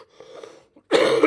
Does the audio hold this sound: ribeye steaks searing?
no